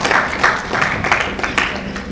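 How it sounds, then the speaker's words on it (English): Audience applause at an anniversary lecture, steady clapping from a seated crowd lasting a couple of seconds at moderate level with no talk over it. "A round of applause, please."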